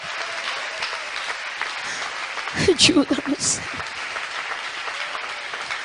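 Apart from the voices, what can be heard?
congregation applauding in church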